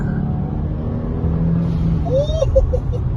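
A 2022-2024 Subaru WRX engine rumbles steadily at idle, then a brief throttle blip brings a short whistling whoosh from a new blow-off valve.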